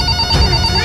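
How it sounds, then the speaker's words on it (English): A toy banana phone rings loudly in a short electronic ringtone burst with steady high tones, alone and close. "A banana phone?"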